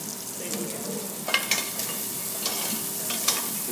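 Bacon fries in a pot with a continuous soft sizzle, broken by several scraping, clattering strokes as it is stirred; close and fairly quiet, with no talking.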